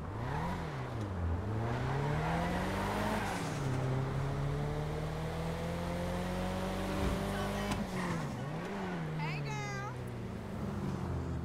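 A car driven through traffic in GTA 5, its engine droning and rising and falling in pitch with each acceleration and gear change, steady and close throughout while someone speaks over it.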